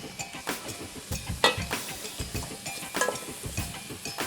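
Fennel and onion cooking in melted butter in a pan, a soft sizzle under repeated scraping and stirring clinks of a utensil against the pan, close and busy in irregular bursts.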